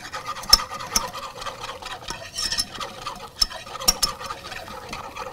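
Wooden spoon stirring lemon curd of eggs and citrus juice in a pan, a soft steady scraping with regular strokes and light clicks against the pan, fairly quiet and close, with no talking.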